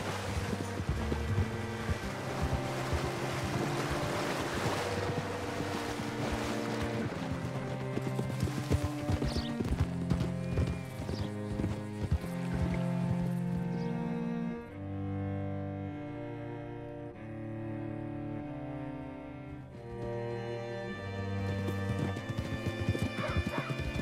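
Horse hooves clip-clop in Red Dead Redemption 2 beneath a loud, continuous orchestral score, with whinnies mixed in and no voices.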